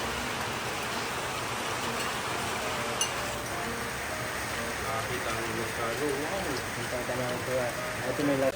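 Rain pours steadily as a dense hiss outside a house in the Philippines, moderately loud and continuous, with people talking over it.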